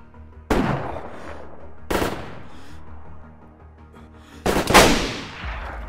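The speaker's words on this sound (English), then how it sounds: "I shot you by accident as well" Gunshots in DayZ on a new map: three loud, booming shots spaced a couple of seconds apart, each with a long echoing tail over a low background rumble.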